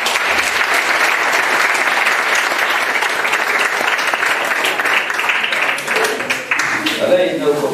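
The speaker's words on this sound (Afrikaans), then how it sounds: "dat ons een klap vir hulle" An audience at a family camp gathering bursts into loud, sustained applause that stays dense and steady throughout, with voices faintly mixed into the clapping.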